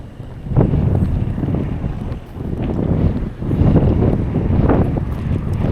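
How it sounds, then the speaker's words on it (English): Gusty wind in the Shikoku countryside of Japan, between Awa-Tachibana and Tokushima, buffets the microphone with a loud roar that surges and eases in several waves and has no voices over it. "I can tell it's a wee bit windy"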